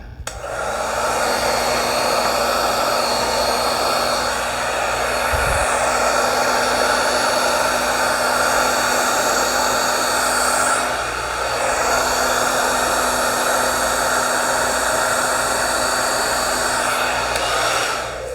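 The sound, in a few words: hair dryer blowing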